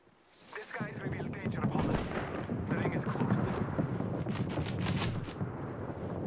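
Sustained gunfire and explosive bursts from a battle in the video game Apex Legends, dense and continuous, loud throughout with crackling shots layered over a rumbling low end.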